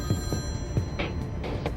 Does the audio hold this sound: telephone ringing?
yes